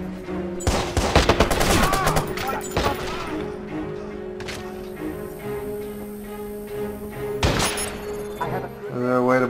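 Gunfire in the video game Watch Dogs: rapid bursts of shots and a sustained volley, loud and close, with a voice talking over parts of the shooting.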